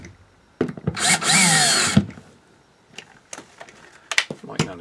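A power drill tightens a single set screw on a 12-volt RV light fixture, giving one close, loud whirring burst of about a second, followed by light clicks and handling noises.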